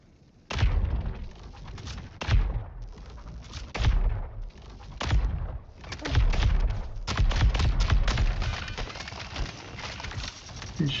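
Video game gunfire, with sharp shots cracking in irregular bursts, some single and some in quick clusters, loud and close with a steady game background under them.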